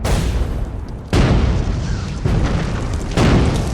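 Artillery barrage explosions from a World War II combat drama, heavy booming blasts landing one after another, about four big impacts over a constant rumbling roar, loud and close.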